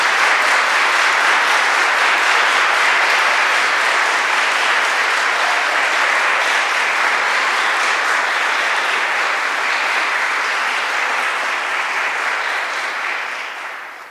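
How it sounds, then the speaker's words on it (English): Sustained audience applause at a middle school National Junior Honor Society induction ceremony, a dense, steady roar of many hands clapping for about fourteen seconds before fading at the end. "Please join me in giving this outstanding group of young people a round of applause"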